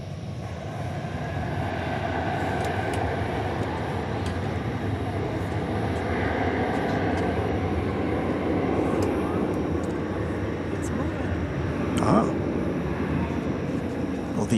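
An ABX Air Boeing 767 moves at DFW airport at night, a broad steady jet engine roar filling the scene, heard from a distance under a commentator's voice.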